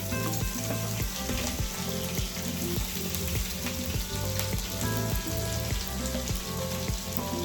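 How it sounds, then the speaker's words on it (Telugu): Chana dal, urad dal, chopped ginger and curry leaves fry in hot oil for upma, a loud continuous crackling sizzle with rhythmic stirring scrapes throughout. "కరివేపాకు, కొద్దిగా వేగాలండి."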